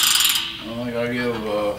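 A brand-new 13/16 ratcheting gear wrench clicks through a quick sweep, a close, crisp run of pawl ticks with faint metallic ringing, brief and alone.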